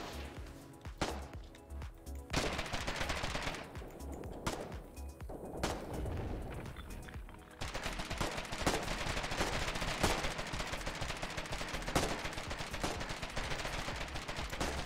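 Rapid gunfire and machine-gun bursts from a World War II-style shooter video game, with sharp repeated shots and sustained automatic fire filling the whole stretch, loud and dense throughout.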